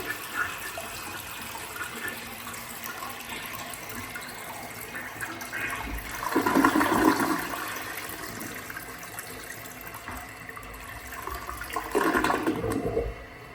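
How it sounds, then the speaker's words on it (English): A 1964 Kohler Cayuga wall-mount toilet flushes with a rising rush of water, which swells, eases into a steady refill hiss, then surges again, close and fairly loud with no talking. "here's a flush of the 1964 Kohler Cayuga"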